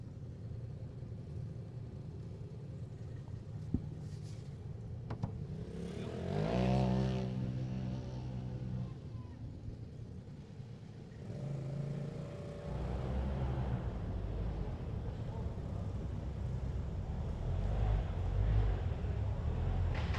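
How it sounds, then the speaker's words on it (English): A ZRP Can-Am off-road racer tears through the woods in an Ultra4 race, a faint distant engine drone that swells into a louder roaring pass and then holds a steady rumble. "that ZRP Can-Am really smoking through the woods"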